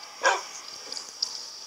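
A dog barks once in the Minecraft video game, a short, clear yelp near the start, followed by faint game ambience.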